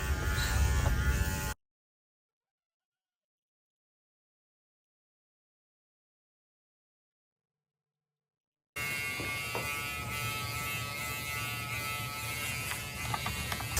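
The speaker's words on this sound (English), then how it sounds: "I'm going to repeat my clipper work on the other side." Electric dog grooming clippers buzz steadily and close by during a dog grooming session. The hum cuts out to silence partway through, then resumes at the same steady drone.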